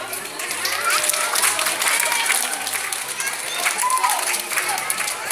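A circus audience in Sandanski, Bulgaria applauds steadily for several seconds, dense clapping from a full crowd close by with a low hum underneath.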